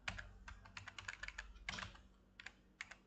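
Typing on a computer keyboard, quick irregular bursts of light key clicks with short pauses between, close but faint, with no voices.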